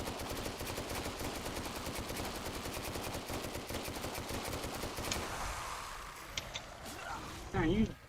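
Rapid bursts of gunfire from the zombie shooter game Dead Frontier 2, loud and steady for about five seconds, then thinning to scattered shots over a quieter background, with a player talking over it.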